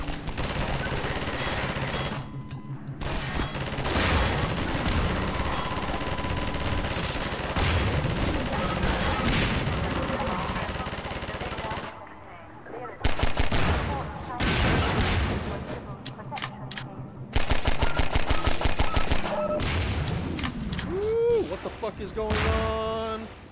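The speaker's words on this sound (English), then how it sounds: "Let's get back up and, not jump off the machine gun this time." Rapid machine gun fire in the video game Half-Life 2, dense sustained bursts with booms and brief lulls, loud and continuous, mixed with game effects and a voice talking over parts of it.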